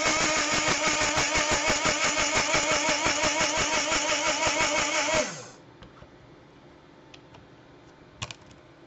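A Lumme LU-2601 electric coffee grinder grinding sugar whirs loudly and steadily for about five seconds, then winds down and stops, leaving quiet with a few small clicks.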